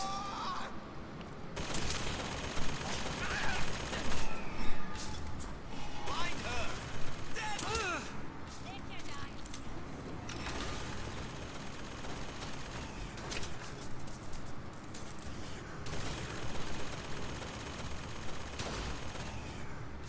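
An automated turret in Bioshock Infinite fires repeated bursts of gunshots throughout, with scattered impacts and mechanical clatter, while a person talks over parts of it.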